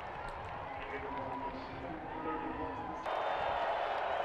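Football stadium crowd at a college game in Wyoming, a steady loud roar of cheering and noise that swells sharply near the end, heard at a distance with no clear talk.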